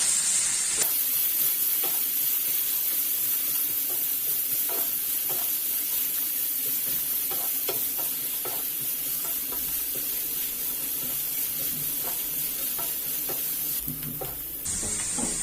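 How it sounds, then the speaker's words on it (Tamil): Shredded carrot and cabbage for chicken fried rice sauté over high heat in a long, even hissing sizzle, with scattered light spatula taps throughout. "சேர்த்துட்டு ஒரு 2 நிமிஷம் நல்லா வதக்கிக்கணும்"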